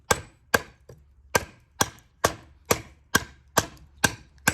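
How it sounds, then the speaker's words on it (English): Ten sharp, evenly spaced chops of a Gen 1 Puzon Wilderness Bowie knife striking hard, old wood, each a crisp thwack with a short decay, close by and without talk. "this is hard, old wood. It's like chopping into a rock."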